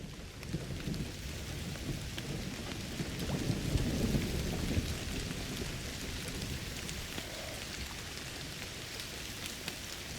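Steady rain pours with rolling thunder swelling in the middle, ambient storm weather from the video game Indiana Jones and the Great Circle, heard alone without voices.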